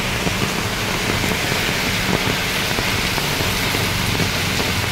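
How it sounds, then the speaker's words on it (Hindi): Heavy rain pours down on Lonavala's main market in Maharashtra: a loud, dense, unbroken hiss of rainfall on surfaces that fills the whole stretch, with no voices. "यहाँ पर पहुंचे ही हैं कि बारिश बहुत तेज हो चुकी है"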